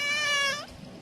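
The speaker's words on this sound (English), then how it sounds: "and that is my cat Biscuit" A single drawn-out meow from a pet cat named Biscuit, close and clear, rising and then fading within about a second.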